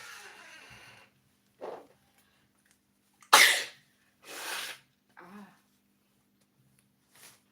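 Several sneezes and coughs from a person reacting to spicy food, with a loud explosive sneeze in the middle among shorter breathy bursts, close and separated by quiet gaps.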